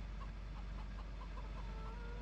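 Chickens clucking in the Farming Simulator 17 video game on the Oregon Springs farm, soft repeated clucks over a steady low farm ambience, faint and continuous with no talk.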